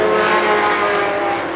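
Sportsman stock cars race down the backstretch at Columbus Motor Speedway in 1996, a loud, steady engine roar holding throughout a short stretch with no voices.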